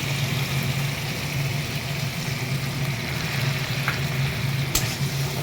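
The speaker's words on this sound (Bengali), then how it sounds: "এবারে এটাকে ভালো করে একটু কষিয়ে নেব।" Mustard paste with chilli and turmeric sizzles in a hot pan, giving a steady close frying hiss throughout with a low background hum and a faint clink near the end.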